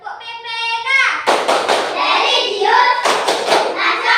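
Children perform the Tepuk PPK hand-clapping routine in an Indonesian classroom, with two bursts of rapid rhythmic claps separated by chanted voices, after a sung lead-in.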